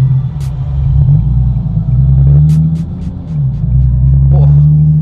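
A car cruising gently through empty London streets, its low engine rumble and road hum steady and close throughout, with a few brief clicks and ticks from inside the cabin.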